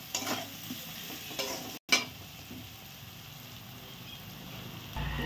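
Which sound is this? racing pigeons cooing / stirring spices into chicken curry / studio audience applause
stirring spices into chicken curry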